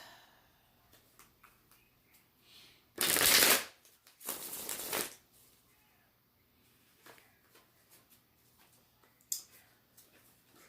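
Tarot cards are shuffled in two loud, dense riffling bursts near the microphone, followed by quieter scattered card taps and soft handling noises in an otherwise quiet room.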